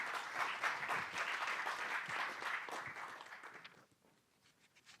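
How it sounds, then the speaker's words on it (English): Audience applause at the MIT 100K Accelerate startup event after a pitch: a crowd claps steadily for about three seconds, then the clapping fades to a few scattered claps and quiet room tone; fairly faint overall. "Big round of applause."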